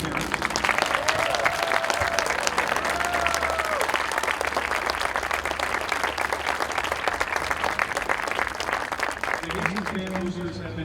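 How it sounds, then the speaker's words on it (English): Sustained crowd applause honoring senior parents at a high school marching band show, a dense wash of clapping with faint voices and a tonal sound mixed in, fairly loud for the full stretch. "let's give you a round of applause"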